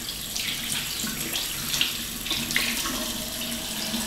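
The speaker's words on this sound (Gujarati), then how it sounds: "હવે ફરીથી નળ ચાલુ કરી" Water runs steadily from a tap into a sink during handwashing, a continuous splashing stream with small spikes where hands move through the flow, moderately quiet and without any talk.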